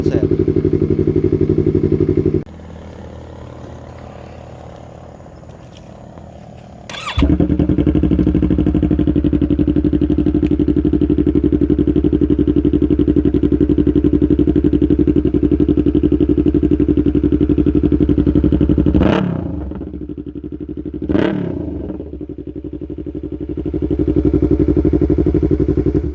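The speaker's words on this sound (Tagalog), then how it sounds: "this is the Yoshimura R77 with silencer" Motorcycle with a Yoshimura R77 exhaust and silencer, loud close engine drone that drops to idle, swells back into a long sustained rev, then dips twice with sharp blips before building again; speech is faintly present.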